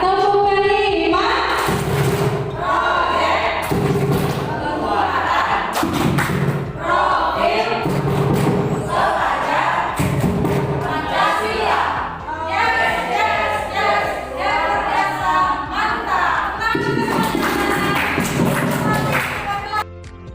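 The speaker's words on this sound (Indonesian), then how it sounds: "sama-sama kita tepuk pelita. Tepuk pelita." A group performs the 'tepuk pelita' clapping chant at a school gathering, loud rhythmic bursts of clapping and sharp hits mixed with voices singing and shouting the chant together for about twenty seconds.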